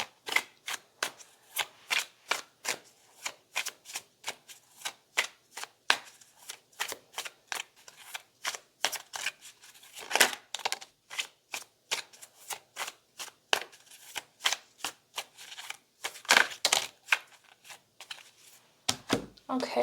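Tarot deck being shuffled in the hands, a long run of crisp riffling card snaps repeating at a steady rhythm, close and clear, with occasional quieter pauses.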